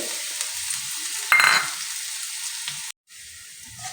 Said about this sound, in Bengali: এবারে গোটা জিরেটা দেব তারপর দেব আমি সেই থেঁতে করে রেখেছিলাম ওই রসুনটা দিয়ে দেবো তো রসুনটা খুব ভালো করে একটু লাল করে ভেজে নিতে হবে